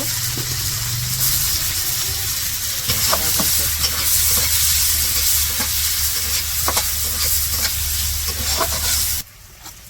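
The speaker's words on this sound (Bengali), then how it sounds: "কড়াইয়ে তেল দিয়ে পেঁয়াজ মরিচ দিয়ে দিল" Loud, continuous sizzle of onions and chilies frying in hot oil, with occasional stirring clicks, close up; the hiss drops away abruptly at the end.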